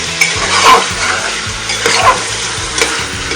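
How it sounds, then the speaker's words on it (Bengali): Chicken pieces are stirred and fried with chili and salt in a pan, sizzling loudly with repeated scraping strokes of a spatula and occasional clinks against the pot. "লঙ্কা লবণটা দিয়ে নাড়াচাড়া করে মাংসগুলো ঢেলে দেব। নাড়াচাড়া করে মাংসের কালারটাকে চেঞ্জ করে নেব।"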